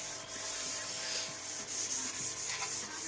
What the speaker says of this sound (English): This is like a Scotch pad, like probably a 800 course, and it just gets in all the grooves, all the nooks, all the crannies.